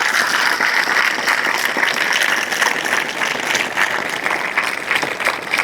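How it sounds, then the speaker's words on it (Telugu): A large audience at a motivational speech applauds loudly and continuously, a thick wash of clapping that stays strong for several seconds. "అందరూ కూడా ధన్యవాదాలు గట్టిగా చప్పట్లు కొట్టారు"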